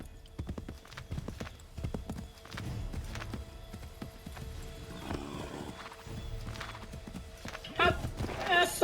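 Horse hooves clip-clop in the video game Assassin's Creed III, a steady trotting patter under game music and voices, with a brief neigh-like burst near the end.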